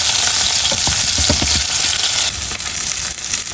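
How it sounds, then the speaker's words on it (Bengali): Garlic sizzles and fries in hot oil in a pan with salt, a steady loud crackle with a few soft clinks early on, no talking. "লবণ দিলাম, তেলটা দেওয়াই আছে দেখতে চাইলে রসুনটা দিয়ে দিলাম"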